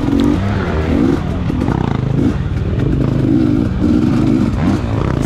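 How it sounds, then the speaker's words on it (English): A dirt bike racing in the 2022 Mag 7 Offroad Swamp Rat GP roars loud and close, its engine revving up and down in repeated surges with rattling clatter from the rough ground. "get used to riding my dirt bike again"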